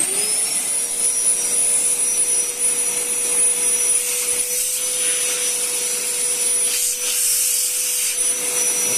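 An INGCO 1200W wet and dry vacuum cleaner (12L, model VC12121) running steadily at close range, a loud constant motor whine and airflow roar that holds without pause, with no talking.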